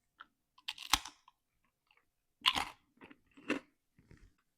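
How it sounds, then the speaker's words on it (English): Crunchy sourdough starter crackers bitten and chewed close to a microphone, giving several sharp, loud crunches in short separate bursts with brief quiet gaps between them. "They're crunchy."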